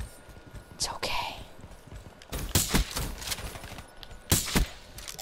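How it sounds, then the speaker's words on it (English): Gunfire in the Black Ops III multiplayer game, several sharp shots in short bursts, loud and close, separated by quieter stretches with a player whispering in between. "That was a headshot. You should have been dead."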